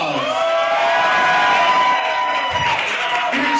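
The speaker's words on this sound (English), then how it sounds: "Everybody give Gina a round of applause." A pageant audience at the Miss Syracuse Pageant cheers and whoops in a loud, sustained crowd roar, with high shouts over the top. A low thump and more voices come in near the end.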